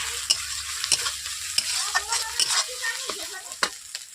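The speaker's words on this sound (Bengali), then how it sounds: "রসুন বাটা দিয়ে আমি এক মিনিট মতো মেরে নিচ্ছি রসুনটাকে ভাজা ভাজা করে নিচ্ছি" Garlic paste frying in a pan while being stirred, a close sizzle punctuated by repeated scraping and tapping strokes of a spatula at an irregular rhythm.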